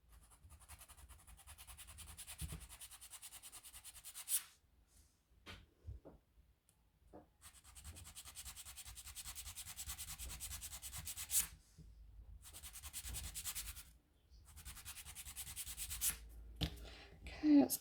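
Custom acrylic nails are filed in long bursts of soft, dry rasping strokes, quiet and close, broken by short pauses and small clicks between passes.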